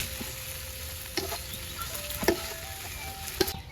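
Shallots, garlic and a hand-ground spice paste fry and sizzle in a pan with a steady hiss, broken by occasional stirring scrapes and louder pops.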